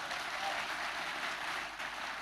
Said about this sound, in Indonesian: Tepuk tangan untuk kompak.